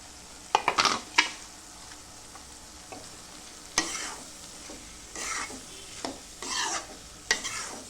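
Boiled, peeled potatoes and cooked peas stirred in a pan for a Marathi batata matar dish, with a scatter of close scraping and stirring strokes and light sizzling, irregular bursts with quiet gaps between.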